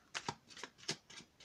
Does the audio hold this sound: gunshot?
no